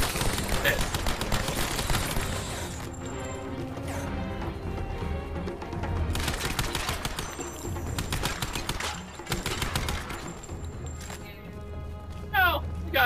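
Repeated gunfire bursts in the action game Lara Croft and the Temple of Osiris, fired by an ancient Egyptian character, rattling in clusters amid crashes and game noise, with voices talking over much of it.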